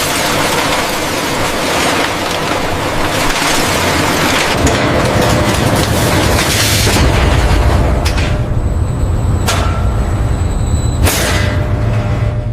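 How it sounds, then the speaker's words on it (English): Mechanical crushers break clean crab shells into fragments, producing a loud, dense industrial roar with grinding rumble and a few sharp cracking impacts near the end. "Mechanical crushers reduce the shells into controlled fragment sizes."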